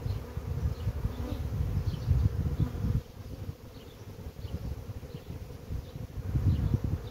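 A dense, steady buzzing of many honeybees close by, from a colony merged with bees from a colony in swarming fever, swelling and dipping in loudness without pause.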